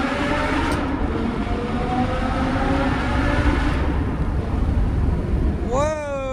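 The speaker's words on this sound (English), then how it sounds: "God, that V10 sounds good." An Audi R8 V10 engine droning steadily and loud, with rising harmonic tones as revs climb, then a sharp upward sweep near the end; a voice is faintly present underneath.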